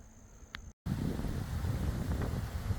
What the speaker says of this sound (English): thank God it's nice and breezy